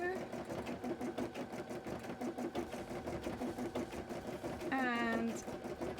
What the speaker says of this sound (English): And let's sew up this side now